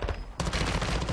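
Light machine gun fire in a video game, a dense run of rapid shots that kicks in partway through after a quieter start and carries on loudly to the end.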